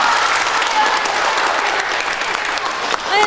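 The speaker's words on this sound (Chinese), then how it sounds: "大家鼓掌欢迎" Steady applause from a village crowd welcoming a visiting county propaganda department head, dense clapping held throughout at close range with voices mixed in.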